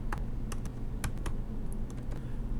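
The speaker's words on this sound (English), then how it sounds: "And I will type in apple." Someone types on a computer keyboard in quick, light, uneven taps, close and clear over a low steady hum.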